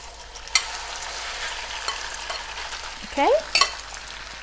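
Marinated chicken stir-frying in a wok, a steady broad sizzle and hiss with occasional clatters of stirring, close by; a brief spoken word near the end.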